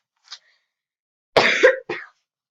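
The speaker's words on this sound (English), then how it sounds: "Sorry if I cough" A sick streamer coughs up close: one faint short cough, a pause, then a loud rough double cough followed by a shorter final burst, with no speech.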